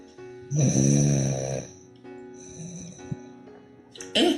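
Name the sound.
snoring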